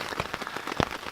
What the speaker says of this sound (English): It started raining again harder.